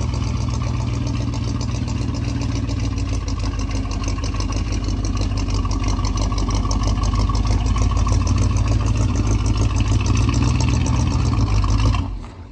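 The engine of a 1983 GMC truck with a dirty carburetor idles with a steady, loud throbbing rumble, then cuts off abruptly at the very end.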